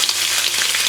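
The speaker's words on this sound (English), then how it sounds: "this pan we turn a little bit back. You don't want to burn the bacon" Bacon sizzles and crackles in a pan, a loud, close, continuous hiss of hot fat with scattered pops, no talk.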